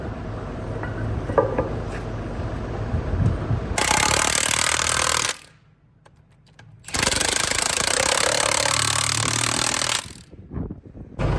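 Tractor engine running on a farm while the machine is being turned around, a loud rough close engine roar in two long stretches separated by a quieter lull, with clunks and rumbling in between.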